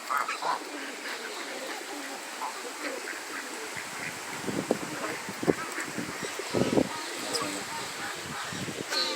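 Assorted birds, including ducks, geese and pigeons, call in an outdoor bird park in Düsseldorf, with scattered quacks and honks rising over a steady hum of park ambience and distant voices.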